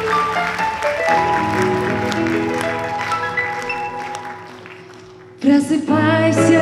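Audience applause at a performance fills a concert hall, blended with sustained musical tones, then fades before lively music starts up.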